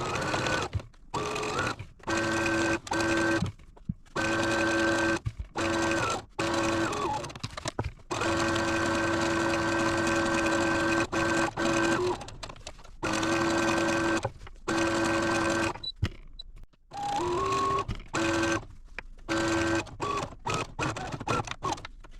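A sewing machine hums steadily while sewing a 3/8 inch pillowcase seam, running in long stretches with brief stops and restarts, close and fairly loud.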